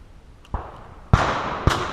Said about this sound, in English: Go ahead and shoot out the rifle. You're about to shoot.